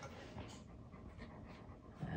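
A pregnant Great Dane near whelping pants hard and fast, a close, rapid run of breathy huffs with no pauses, fairly quiet in a still room.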